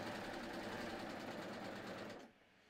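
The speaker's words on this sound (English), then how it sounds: "now we're going to sew our sleeves on" A sewing machine sews sleeves onto a knit tee shirt in a steady, close whirring run of about two seconds before stopping abruptly, with no talking.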